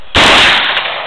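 A single loud, sharp report from an MP5A3 machine gun cracks out close by, followed by a brief decaying echo and rattle, with no speech.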